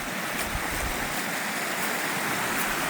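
Gales Creek's flowing water gives a steady broadband rush, close and continuous, with no talking over it.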